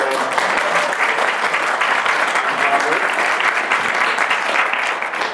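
An audience clapping at a live talk, dense sustained applause from a large crowd, loud and continuous for the whole stretch with no voices above it.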